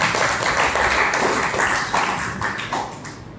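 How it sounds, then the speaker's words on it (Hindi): An audience claps and applauds steadily, a dense wash of many hands that fades slightly toward the end. "जया बच्चन के लिए तालियां बजा ही दे"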